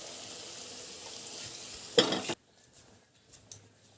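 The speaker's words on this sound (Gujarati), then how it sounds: "હવે દાળ આની અંદર આપણે નાખી દેવાની." Lentils go into a pan of cooked tomato masala for Rajasthani dal: a steady soft sizzle, then a brief louder splash as they land, followed by quieter stirring with faint utensil clinks.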